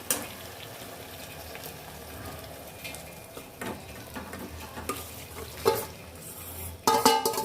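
Chicken pieces for chicken pulao go into a pan and cook, giving a steady low sizzle and bubbling with occasional stirring scrapes, then a louder burst of clattering and hissing near the end as the pieces drop in.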